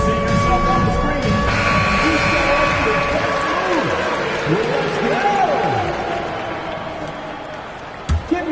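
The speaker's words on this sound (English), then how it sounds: "Give yourself a round of applause" Crowd applause and cheering rise in a basketball arena inside the NBA 2K25 video game, a steady roar with sneaker squeaks and a commentator talking over it, fading slightly toward the end.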